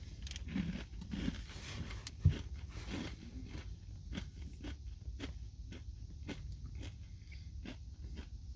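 Biting into and chewing a thin Nature Valley Smoky BBQ Nut Crunch bar, one sharp crunchy snap followed by a run of close, rhythmic crackly chews with no talking.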